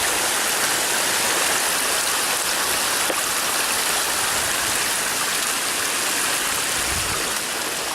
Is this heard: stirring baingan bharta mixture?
no